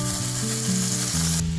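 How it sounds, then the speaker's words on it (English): Bacon sizzling in a pan over a campfire, a loud, dense, continuous frying crackle heard up close with no talk. "The bacon is really just to get that bit of bacon grease there so I can start to fry the meat on a hot heat"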